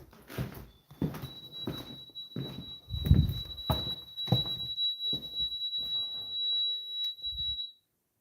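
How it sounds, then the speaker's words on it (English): A steady high electronic beep tone sounds continuously inside an old hospital building, partly masked by a series of dull thumps and knocks, then cuts off abruptly near the end. "Something is beeping and I can't figure it out"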